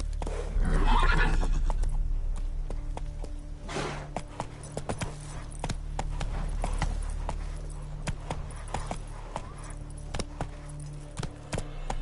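Roach the horse runs in The Witcher 3, with hooves pounding in a steady galloping rhythm, a loud whinny near the start, and faint tack jingling beneath.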